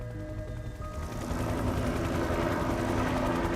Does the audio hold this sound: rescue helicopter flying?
yes